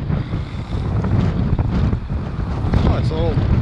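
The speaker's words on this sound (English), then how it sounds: "gale force wind out here." Gale-force wind buffets a microphone on a saltwater fishing boat at sea, a loud continuous roar with water sounds beneath and faint voices in the background.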